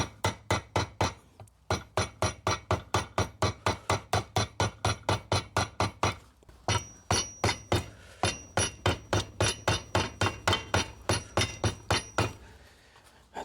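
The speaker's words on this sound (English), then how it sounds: "And so now I'm gonna use the regular hammer just to tap it" A steel hammer taps gently on an engine mount during a repair on a 2004–2009 Mazda 3, giving a long run of rapid, evenly spaced metallic knocks. The taps are close and crisp, broken by two short pauses.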